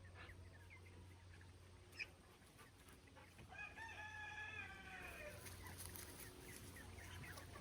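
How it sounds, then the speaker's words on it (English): On a homestead, a rooster crows once at a distance over steady low background hum, with faint scattered clucking from other chickens, including Light Sussex meat birds, around it. "this year our meat birds are light Sussex chickens"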